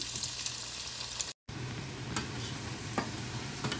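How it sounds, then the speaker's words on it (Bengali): Pasta deep-fries in hot oil with a steady close crackling sizzle and occasional sharp pops, interrupted by a brief silent break before the frying continues. "সেম প্রসেসে আমি পাস্তাগুলো ভেজে নিচ্ছি"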